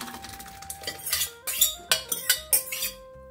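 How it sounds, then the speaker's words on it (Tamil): A metal spoon scraping and clinking against a pot of palak dal while transferring it to a bowl, a quick series of sharp knocks, close and clear, with ringing metallic tones between hits. "நம்ம வந்து பவுலில் ட்ரான்ஸ்ஃபர் பண்ணிடலாம்."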